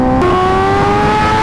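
Kawasaki Ninja H2R superbike engine held at a loud, steady high-rpm whine close to the listener, the pitch climbing slightly after a brief throttle blip.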